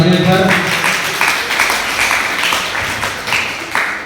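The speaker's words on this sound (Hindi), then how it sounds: "जोरदार तालियां पर।" Applause from students at a school maths quiz for Mathematics Day, a loud burst of clapping following a short spoken announcement, continuing in uneven waves to the end.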